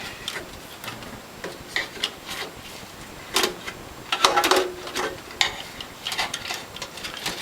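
A premium base plate is tightened on a Norwalk juicer, heard as close intermittent rubbing and ratcheting scrapes with small clicks in irregular bursts, no voices.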